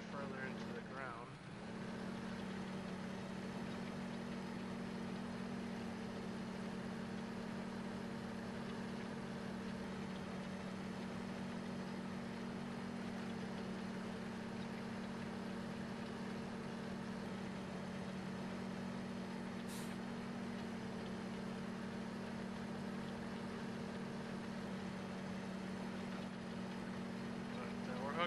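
John Deere 9560R tractor pulling a John Deere 2623 disc in Farming Simulator 2015. A quiet, steady engine drone holds unchanged throughout.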